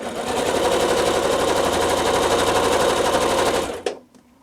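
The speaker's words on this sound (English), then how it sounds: "I'm going to scoot that over and stitch these down, repeating the same for all 4." A sewing machine stitches down quilt block pieces in a rapid, steady mechanical chatter, close and loud for several seconds before stopping abruptly with a couple of small clicks.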